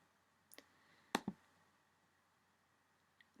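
A computer mouse clicking while saving a file in an online photo editor: a couple of quick, close clicks, then a sharper double click, with faint clicks near the end and no talk.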